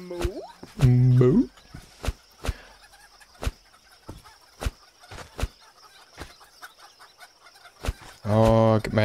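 Game chicken from Ale & Tale Tavern clucking in two short loud bursts at the start and end, with sharp repeated clicks and knocks from gameplay in between.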